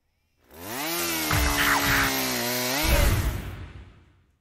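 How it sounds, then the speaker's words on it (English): A drill piercing straight through in the game Your Turn to Die, a loud buzzing mechanical whir that rises and holds steady for about three seconds with grinding, rumbling bursts, then fades out abruptly. "The drill pierced straight through!"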